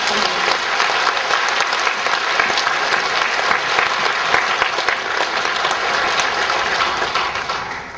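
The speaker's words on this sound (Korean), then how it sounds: "살아계신 하나님, 성령을 주시는 하나님께 우리 영광의 박수 올려드리겠습니다" A church congregation claps together in praise, a thick, even wash of many hands applauding continuously for several seconds before tapering slightly at the end.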